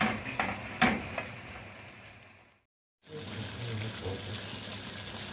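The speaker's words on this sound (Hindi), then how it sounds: "बस अब हम इसमें अपनी स्पैगेटीज मिक्स करेंगे।" Spaghetti stirred with softened onions in a frying pan: soft scraping and stirring over a low sizzle, a few sharp clacks early on, then a brief silent gap before the gentle frying and stirring resume.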